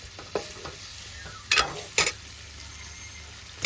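Whole potatoes being stirred into a spicy chutney in a pan for bhungala bateta, with soft scraping and a few louder clanks of the spoon against the pan over a low sizzle.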